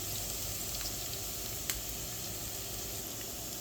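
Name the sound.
chopped onions frying in oil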